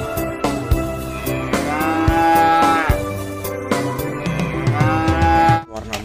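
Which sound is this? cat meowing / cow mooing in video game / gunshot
cow mooing in video game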